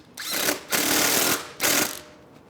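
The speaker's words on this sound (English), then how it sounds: "So now we can run our bolt through here, put the nut on. So like 10mm wrench or 8mm socket." Bolt and nut tightened with an 8mm socket while installing a cafe handlebar kit on a Triumph Bonneville: three loud, close bursts of whirring ratchet or power-tool drive separated by brief pauses.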